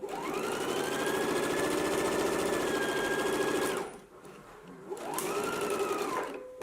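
A home sewing machine stitches the inner leg seams of a garment, running in a loud, fast, steady whir for about four seconds, pausing briefly, then starting again for a shorter burst.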